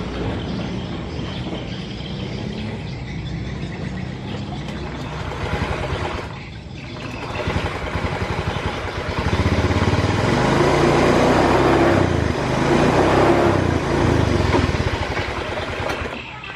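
A Honda Beat FI scooter engine with a misfiring, stumbling fault is started and left running, a loud steady mechanical drone close by that swells and thickens partway through, with the fuel pressure gauge near 42 PSI.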